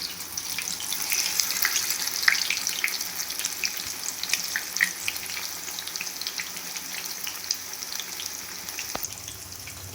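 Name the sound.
mutton vadas deep frying in hot oil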